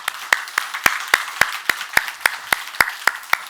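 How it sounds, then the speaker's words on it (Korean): A church congregation at a Korean New Year's Day Sunday service claps loudly and in unison, about thirteen sharp, evenly spaced claps in a quick steady rhythm. "우리 하나님께 영광의 박수 한번 합시다"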